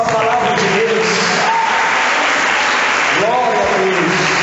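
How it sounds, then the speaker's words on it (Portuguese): A Catholic congregation at a sermon applauds the word of God, a loud, continuous wash of clapping heard through a reverberant hall with some voices and a sung note rising over it. "Uma salva de palmas para a palavra de Deus."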